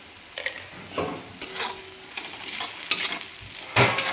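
Jhunka mixture, a gram-flour dish, stirred in a hot pan with salt added, with repeated scraping strokes of a spatula over a low sizzle, coming in irregular bursts at close range.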